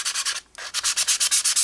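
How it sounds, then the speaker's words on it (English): Hand sanding with 180-grit sandpaper on a handlebar riser spacer, rapid rhythmic back-and-forth scratching strokes close up, about a dozen rasps with one short pause near the start. "I've taken some 180 sandpaper, and I'll do this by hand"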